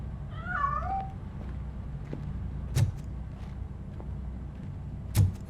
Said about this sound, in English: That cat must be hiding inside.